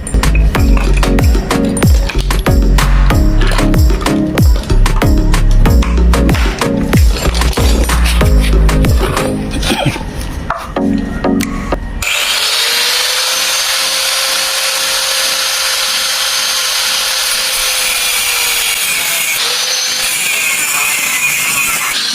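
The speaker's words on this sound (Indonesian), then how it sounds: "ini untuk memapas bisa melakukan dengan pakai gerinda potong ya" Cut-off grinder slicing through a metal caliper bracket for a Yamaha Nmax scooter, loud choppy grinding and clattering that gives way to a steady high whining cut, close up.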